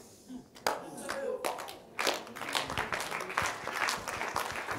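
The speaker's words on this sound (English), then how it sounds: "I'm waiting for you to clap better and then I'll continue." A congregation at a church morning service claps with dense, scattered hand claps that swell after a short lull, fairly close, with a voice faintly audible underneath.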